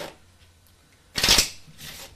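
A deck of playing cards is cut and riffled during a magic performance, one loud close burst of shuffling followed by a softer second riffle, with no talking.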